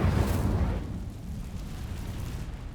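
A fiery burst from the Incendio spell in Hogwarts Legacy, a loud whooshing blast at the start that fades into a rumbling, crackling tail.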